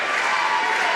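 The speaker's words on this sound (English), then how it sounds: "Big crowd on hand applauding the Jackson Center Tigers" A big crowd applauding and cheering at the end of a boys varsity basketball game in Jackson Center, a steady wash of clapping filling the whole moment.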